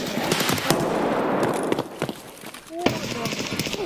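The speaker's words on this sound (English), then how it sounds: "He's shooting me!" Enemy gunfire in a video game, rapid bursts of shots that rattle loud and close, with an excited voice shouting over them.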